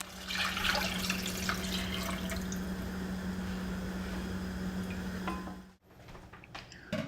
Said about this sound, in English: I'm going to rinse out the rice cakes that I've had soaking, drain them, and then set them aside.